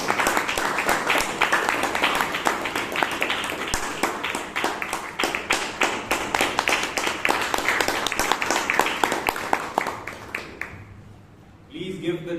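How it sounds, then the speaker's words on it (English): Audience applause continues through a Toastmasters club meeting in Bangalore, a sustained round of steady clapping that fades out near the end, followed by a brief quiet moment with a faint voice. "Let the applause continue"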